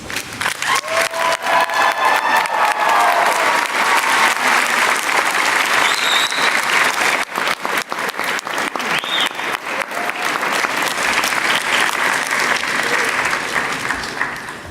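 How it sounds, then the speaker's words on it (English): Graduation audience at an agriculture commencement ceremony gives a long, loud, steady round of applause, dense clapping with a few scattered cheers and no break for about fifteen seconds. "Graduates, please stand to honor and thank these folks with an exuberant round of applause."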